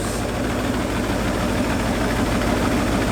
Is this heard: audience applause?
no